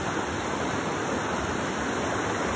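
River water rushing steadily over stones, a dense continuous wash that stays constant and fairly loud throughout, with no voices.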